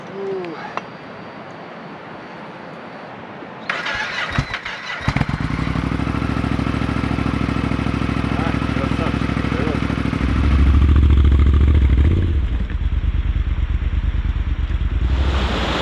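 A motorcycle at the Adyr-Su gorge starts up after a short cranking attempt and then settles into a loud, steady close idle, with some clatter and a brief rev in the middle.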